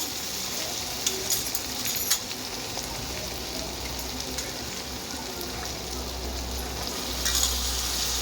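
Potatoes fry in a pan with softened tomato, a soft continuous sizzle with occasional sharper crackles and scrapes, fairly quiet and close.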